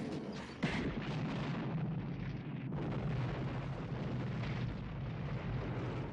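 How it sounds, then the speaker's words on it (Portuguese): A huge gas explosion in the Child's Play film, with a sharp blast followed by a sustained loud roaring rumble of fire and debris that fills the clip without speech. "o boneco Chuck consegue ligar o gás e fazer uma explosão gigantesca"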